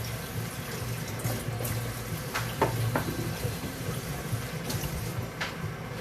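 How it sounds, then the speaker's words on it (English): Tap water running steadily at low level while potatoes are rinsed in a kitchen sink, a soft continuous splash with a few faint clinks and knocks. "I might wash them actually, just give them a bit of water"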